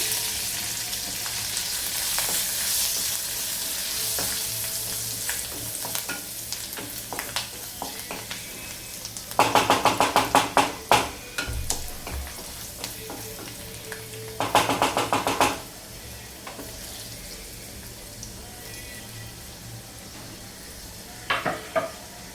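Garlic and chilies fry in a pan for lasuni methi, with a steady low sizzle throughout, broken by sharp bursts of louder crackling and scraping as they are stirred.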